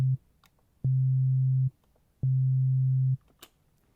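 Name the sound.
synthesizer oscillator tone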